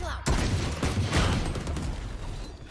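Rapid gunfire from a VALORANT esports match rattles in dense close bursts with sharp mechanical clatter, filling the short stretch continuously with a few heavier impacts.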